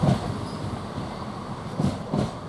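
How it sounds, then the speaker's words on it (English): East Midlands Railway train leaving Grantham station for Skegness, a steady rolling rumble with rhythmic wheel thumps over the rail joints, heard at moderate distance without voices. "we got a set of East Midlands Railway now departing"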